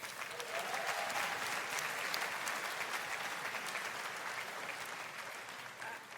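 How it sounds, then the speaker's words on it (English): Sustained applause from a large keynote audience at RDC 2023, dense and even clapping that holds steady throughout, slightly fading toward the end. "That deserves a round of applause."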